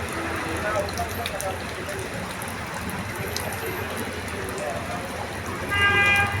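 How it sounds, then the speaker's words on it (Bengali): Steady rain hisses throughout outside the Chittagong court building in Bangladesh, with a short car horn toot near the end. "বৃষ্টি চলতেছে।"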